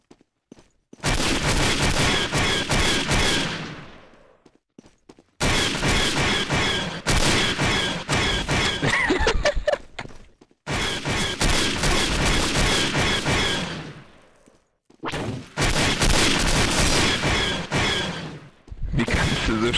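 Rapid bursts of gunfire from the Star Wars mod of the shooter game Day of Defeat: Source, loud and sustained in four long volleys separated by brief pauses, with no talking over them.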